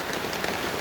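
Steady rain pattering on a surface, a dense continuous hiss of falling drops without distinct voices, as children play outside in the downpour.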